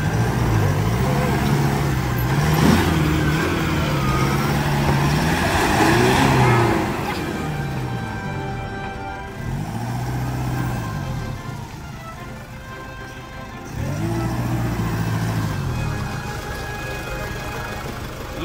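A Toyota pickup truck crawling in first gear with 4x4 engaged, its engine droning and rising and falling in pitch as it works, while someone talks over it.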